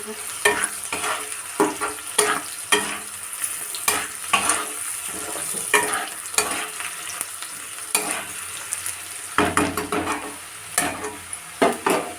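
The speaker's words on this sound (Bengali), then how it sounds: "তো পেঁয়াজটা আমার লাল লাল হয়ে গেছে" Onion fries in a pan for a lentil and spinach dal, with a steady sizzle broken by regular, close scraping strokes of stirring throughout.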